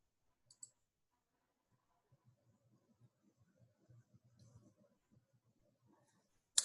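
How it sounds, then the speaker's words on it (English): A computer mouse button clicked in a quiet room, a few faint, sharp clicks spaced apart, with a louder click at the very end. "now I'm just going to click on that blue Add Person"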